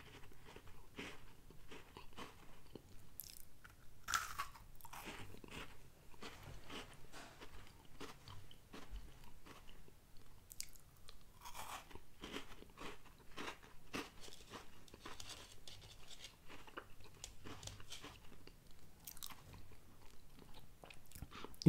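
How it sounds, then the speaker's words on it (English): Milano Pumpkin Spice limited edition cookies being crunched and chewed close to the mic: steady, continuous crisp bites and crackly mastication running throughout, with no talking. "I guess I'd put my mouth next to the microphone and crunch them."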